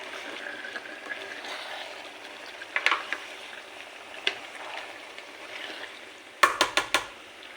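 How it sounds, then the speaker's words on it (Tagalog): Chicken for biryani sizzles and simmers in a pot, with soft bubbling, a few utensil scrapes and a quick burst of metallic clinks near the end. "kumukulo-kulo siya"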